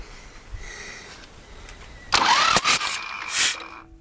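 A T-25 tractor's D-21 diesel engine is cranked by the starter during a compression test, giving a short, loud grinding burst of a few seconds after a quiet start.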